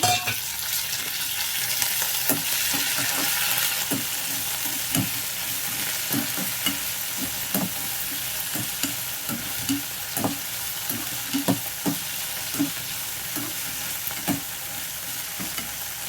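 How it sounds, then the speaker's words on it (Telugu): Finely chopped coriander and green chilies fry in a pan for tomato pachadi, a continuous dense sizzle punctuated by frequent rhythmic taps and scrapes of a stirring spoon, close and steady throughout. "ఇది కొత్తిమీర కూడా సన్నగా కట్ చేసేసుకొని ఈ పచ్చిమిర్చితో పాటు వేయించుకోవాలి"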